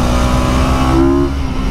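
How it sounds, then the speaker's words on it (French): A sport motorcycle engine at high revs on a race circuit, a loud, close, sustained droning whine with a steady pitch that briefly rises before settling. "j'avais oublié que cette moto là elle se réveille."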